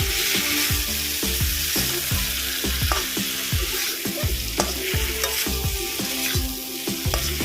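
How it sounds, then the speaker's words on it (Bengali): Fried chicken muitha dumplings are stirred into a spiced chili-powder masala in a pan: steady close sizzling broken by repeated rhythmic scraping strokes of the spoon, with no talking. "আমি এর মধ্যে ভেজে রাখা মুইটাগুলো দিয়ে দেবো এটা দিয়ে ভালো করে কুচিয়ে দিই"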